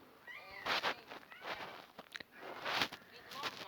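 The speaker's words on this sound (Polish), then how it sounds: "No i znowu kot miałczy." A cat meows several times indoors, drawn-out, fairly close mews spaced across the moment, with a person talking in between and faint rustling.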